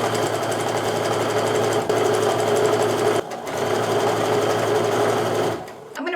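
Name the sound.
sewing machine sewing quarter inch seams on quilt strips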